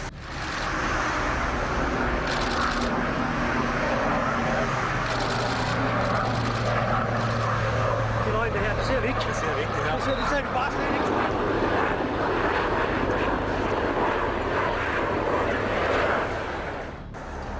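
A fixed-wing airliner with failed right main landing gear drones steadily overhead for a long stretch, a continuous engine roar with people talking underneath.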